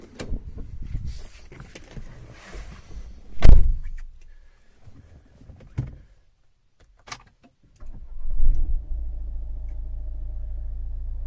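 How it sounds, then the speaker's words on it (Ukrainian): A car door thuds and keys rattle, then the 1.6 diesel engine of a 2013 Renault Grand Scenic cranks and settles into a steady, low idle that runs to the end. "Зараз заведемо, послухаємо, як він працює."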